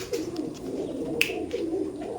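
Giribaj high-flyer pigeons coo in a steady low murmur, several birds overlapping close by, with a brief sharper chirp partway through and no talking.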